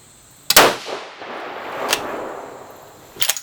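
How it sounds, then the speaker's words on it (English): A 6mm Creedmoor rifle loaded with Staball powder fires after a hang fire delay, giving a sharp loud crack that rings and decays, followed by a second fainter crack and a third sharp report near the end. "Severe hang fire."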